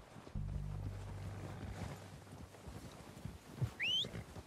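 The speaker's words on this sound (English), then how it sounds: "They're coming down with the horses." Horses arriving in Red Dead Redemption 2, low hoof thuds and rumbling movement starting abruptly then fading, with a brief whinny-like squeal near the end, moderately faint.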